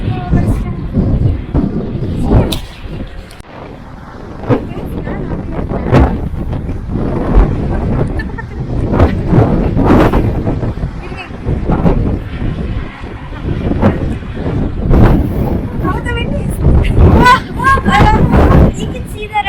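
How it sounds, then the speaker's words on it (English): Strong gusting wind on the summit of Mount Washington, New Hampshire, roars and buffets the microphone in loud continuous rumbling waves with sharp thumping bursts throughout. "the wind is pushing me. It's very strong."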